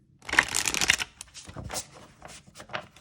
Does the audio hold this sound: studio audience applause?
no